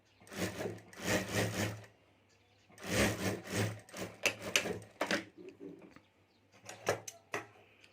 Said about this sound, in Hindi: तो यहाँ मैं सिलाई करके जीप लगा देता हूँ।